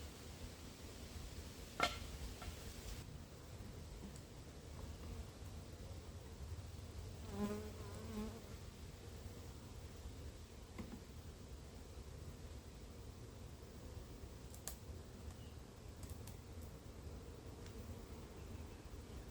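Soft, steady buzzing of packaged honeybees from Georgia fills a quiet space, with a few faint clicks and knocks scattered through it.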